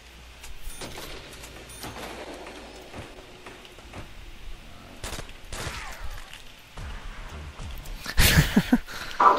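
Pistol shots and other gunfire crack through a Call of Duty zombies round on the Shi No Numa map, scattered sharp reports over a low game ambience, ending in a loud burst of close shots.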